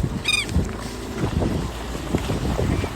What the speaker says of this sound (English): Not happy about it because I don't like this wind